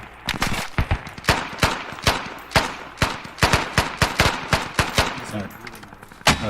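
Gunfire in the video game Squad: rapid bursts and single shots crack out in an irregular rhythm, loud and close, with a few echoing tails in between.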